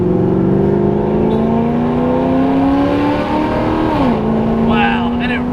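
Engine of an HSV GTS (VF Holden Commodore) with a supercharged LSA V8, droning steadily as it climbs in pitch under acceleration, then easing off near the end; loud and close, with a voice talking over it.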